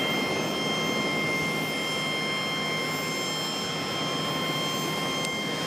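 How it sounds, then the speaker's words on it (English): American Airlines jet at Charlotte airport, a steady distant roar of jet engines holding at an even level throughout, with a faint high whine running over the broad rumble. "American Airlines 3179 is returning."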